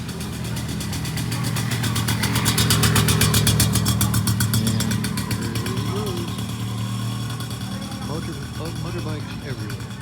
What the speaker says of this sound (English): Motorbikes, scooters everywhere.